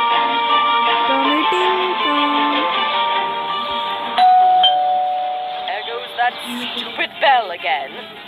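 Doorbell chime in the horror game Scary Teacher 3D, a sustained electronic tone with steady harmonics ringing under game music, shifting pitch partway through, with chirpy effects near the end.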